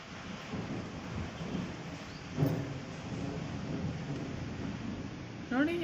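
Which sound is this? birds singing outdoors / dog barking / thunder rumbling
thunder rumbling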